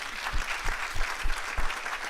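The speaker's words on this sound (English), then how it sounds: "a round of applause for my great panel" Conference audience applauding a panel at a media event in Africa, dense clapping with a rhythmic pulse of low thumps about three times a second, fairly loud and close.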